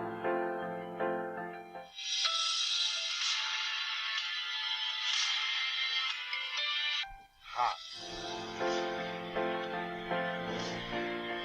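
Mobile phone ringtone ringing inside a car, a melodic electronic tune with steady tonal notes that plays alone, pausing briefly midway before resuming at moderate loudness.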